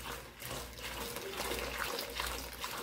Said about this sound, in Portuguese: Vamos colocar aqui, ó, 1 litro de água bem quente.